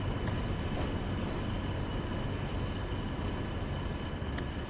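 Class 40 diesel locomotive arriving at Dewsbury station, a continuous heavy rumble and broadband rail roar held at an even level throughout.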